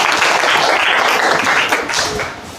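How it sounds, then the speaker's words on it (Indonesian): Applause for a student group in a school classroom, a dense wash of many hands clapping close by, loud and steady before easing off at the end. "Tepuk tangan untuk kelompok 3."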